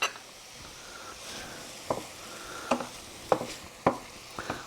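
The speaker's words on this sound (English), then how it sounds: "We'll let those fry up for a couple of minutes." Potatoes fry in a pan with a faint, steady sizzle, broken by a few soft utensil clicks and scrapes as they are stirred.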